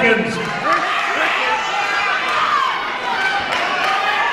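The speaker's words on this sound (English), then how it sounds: "The crowd is cheering hard in this finish to the 6th round" Crowd at a boxing match during the finish of the sixth round, a dense roar of cheering and shouting that holds steady throughout, with a commentator's voice speaking over it.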